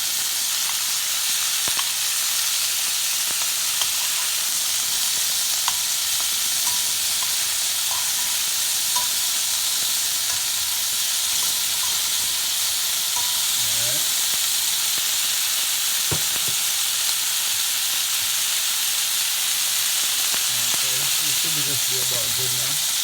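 Curry shrimp sizzle in a hot pan, a steady loud hiss of frying that runs unbroken the whole time, with occasional faint clinks and a voice speaking now and then beneath it.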